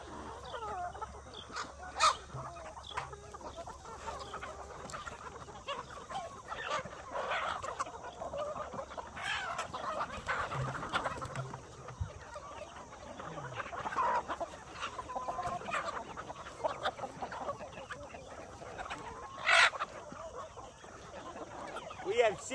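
Chickens on a homestead keeping about sixty rare breeds, from the smallest to the largest, cluck and crow throughout, with a few louder crows standing out over a steady barnyard backdrop and some quiet talk.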